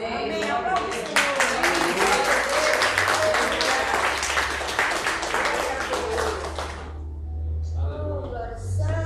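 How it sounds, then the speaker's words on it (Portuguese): A church congregation breaks into loud, dense applause that swells and then fades, with voices speaking before and after it and a low musical drone underneath. "Aplaude o Senhor."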